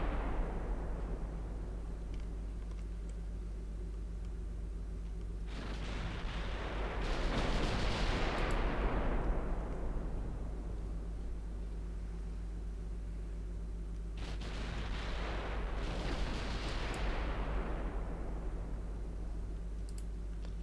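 Heavy battleship gun salvos in the naval game Ultimate Admiral Dreadnoughts, two broad booming volleys several seconds apart, each swelling and trailing off slowly over a steady low hum, with no talking.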